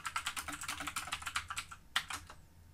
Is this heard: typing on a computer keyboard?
yes